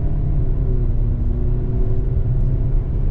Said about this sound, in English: Boy, that turbo pops in pretty harshly.